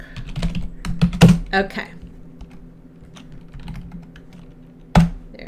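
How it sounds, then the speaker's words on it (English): Computer keyboard typing in quick, uneven bursts of sharp clicks with a couple of heavier key thunks, close up, while a voice speaks briefly. "I'm going to type this homework."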